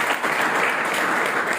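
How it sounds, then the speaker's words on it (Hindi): Loud audience applause during a life care training session: a dense, close burst of clapping that lasts under two seconds. "जोरदार ताली।"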